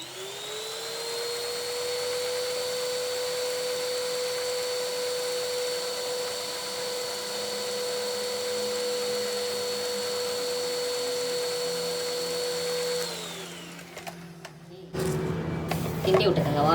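An electric hand mixer on its first, lowest speed beats carrot cake batter with a steady, even motor whine that holds for about thirteen seconds, then winds down and gives way to a few close clatters and knocks.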